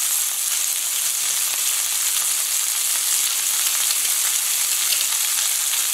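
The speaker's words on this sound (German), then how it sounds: "Den Knoblauch kurz anrösten." Garlic frying in hot oil in a pan while cod is cooked, giving a dense, steady sizzle and crackle that runs without a break and with no voices.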